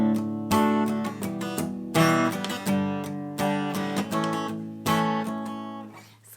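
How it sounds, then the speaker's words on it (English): Acoustic guitar strummed with palm muting at the bridge, giving a steady rhythmic pattern of clipped, damped chords with a few louder accents, played alone and close. "she rests the very edge of her hand at the very end of her guitar right on the bridge here, and it provides like a muted sound"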